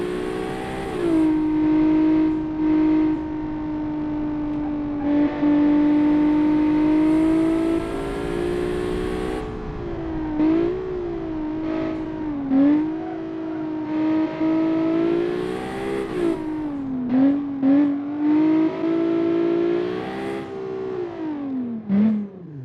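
Car engine revving while driving, a loud continuous engine drone rising and falling in pitch through repeated throttle changes and gear shifts, close and alone for over twenty seconds.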